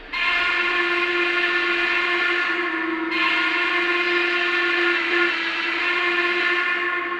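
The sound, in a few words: model steam locomotive whistle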